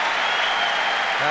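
A tennis crowd applauds after a point won by Federer, a brief dense wash of clapping from many hands under a talking voice.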